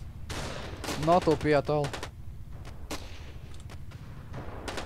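Shotgun blasts in the Battlefield video game, several loud sharp booms spread through the clip, partly overlapping someone talking in Lithuanian.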